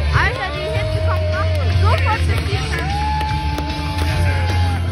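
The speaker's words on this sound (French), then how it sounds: "Je vous demande, public, un maximum de bruit." Crowd at a monster truck show yelling and cheering, with drawn-out shouts rising over a constant low engine-like rumble from the arena.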